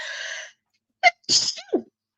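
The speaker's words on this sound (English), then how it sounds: "excuse me, I'm going to sneeze" A single sharp sneeze after a brief stretch of breathy sound, close and clear, followed by a short vocal sound.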